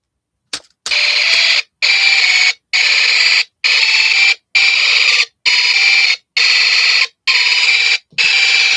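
A Snap Circuits vibration-activated alarm sounds in loud, harsh electronic blasts, about nine evenly spaced pulses each lasting roughly half a second, close and alone after a brief click.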